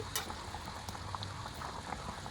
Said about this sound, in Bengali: এবার এটা ফুটতে থাকুক।